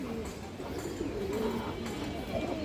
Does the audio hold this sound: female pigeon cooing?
yes